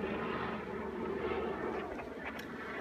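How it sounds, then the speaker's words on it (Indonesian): Military aircraft, a steady low engine rumble and drone heard from a distance, faint against the background with no talk. "Ada pesawat militer."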